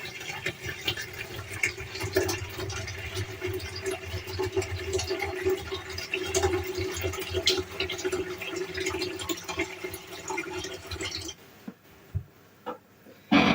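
Cold water pours steadily from a tap for about eleven seconds, a broad rushing sound that cuts off near the end, leaving quiet with a few small clicks.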